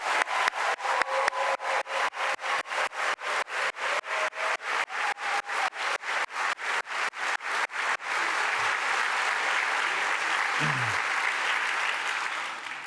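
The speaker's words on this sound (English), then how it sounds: "How about one more round of applause for the class of 2026?" An audience at a medical school white coat ceremony claps for the graduating class, starting with rhythmic unison clapping and swelling into dense sustained applause that tapers slightly at the end.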